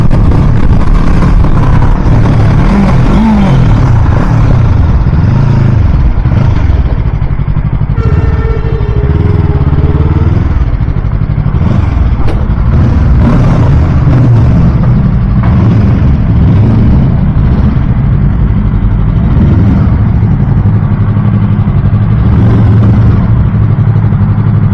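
A 2024 Yamaha R3 motorcycle engine droning loudly and steadily while riding, with rising and falling revs under heavy wind roar.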